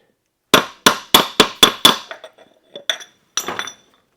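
Six quick, ringing hammer taps on metal in a tight burst, then a few lighter scattered knocks, as a part is seated flush on a 727 transmission from a 1964 Chrysler New Yorker.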